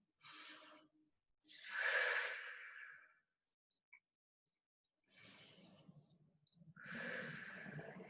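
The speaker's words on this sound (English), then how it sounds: "Take 2 deep breaths." Four deep breaths during a rest in a shoulders-and-chest fitness class, each a loud, close inhale or exhale with airy, snort-like texture, spaced by short pauses and with no talking.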